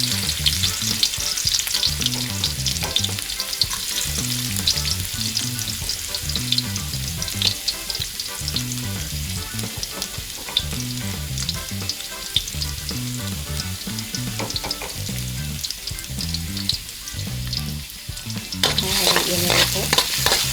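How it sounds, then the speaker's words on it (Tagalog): Garlic frying in hot cooking oil for a pork tripe dish, with a continuous loud sizzle and rapid rhythmic stirring scrapes throughout. Close up, no talking. "Ngayong mainit na po ang mantika ay igigisa ko na po ang bawang."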